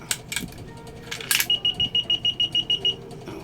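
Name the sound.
universal coin slot beeping during calibration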